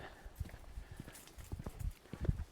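Horses walking past on a wooded trail, hooves clip-clopping in an uneven rhythm at moderate distance, passing by without speech.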